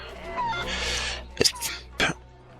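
Chicken in Assassin's Creed Liberation HD clucking and squawking while being chased, a few sharp bursts with nasal honk-like calls, close, with someone talking over it.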